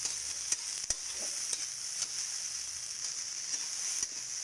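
Sprouted mung beans sauté in a hot pan for lumpiang gulay, giving a steady close sizzle broken by scattered sharp clicks of a spoon stirring against the pan. No one speaks.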